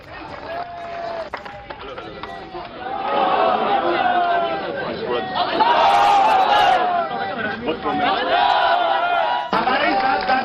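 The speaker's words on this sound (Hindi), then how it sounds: "नारे लग रहे थे अल्लाहू अकबर, नाराए तकबीर।" Large crowd at a Jantar Mantar protest against the Waqf bill, chanting religious slogans in unison; a dense, sustained roar of many voices that swells louder midway and stays steady to the end.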